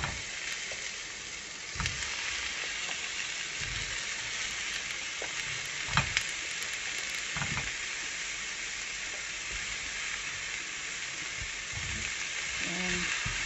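Luffa and onions sauté in a pan, a continuous loud frying hiss with occasional soft knocks and scrapes of a spoon throughout.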